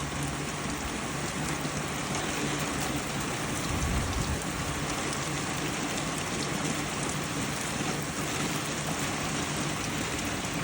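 Heavy rain mixed with falling hail pours down in a loud, unbroken hiss and patter, with a brief low rumble near the middle and no voices.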